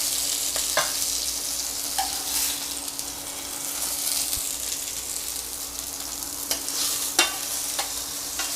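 Steak frying in a pan sizzles with a steady, dense hiss throughout, with a few sharp crackles and pops rising above it.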